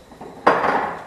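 Fresh pepper ground over a pasta sauce of tomato with toasted pine nuts, a dry, crackling grind that starts suddenly partway in and carries on steadily and close for the rest of the moment, with no talk over it.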